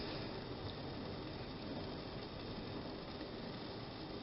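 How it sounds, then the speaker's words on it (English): A passing train rumbles steadily in the background, a broad continuous low roar that holds at an even level throughout with no voices over it. "You guys hear that fucking train?"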